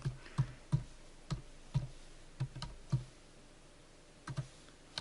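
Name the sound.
typing an address on a computer keyboard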